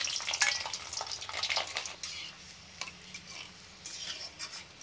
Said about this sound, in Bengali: তেল গরম হয়ে গেছে, দিয়ে দেব রসুন আর শুকনো লঙ্কা।